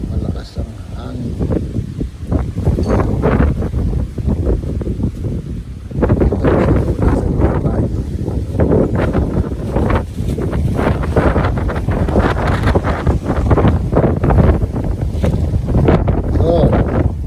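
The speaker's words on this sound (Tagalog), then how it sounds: "malakas ang hangin." Strong wind buffets the microphone outdoors in loud, continuous gusting roars that swell and surge throughout, with people talking faintly underneath.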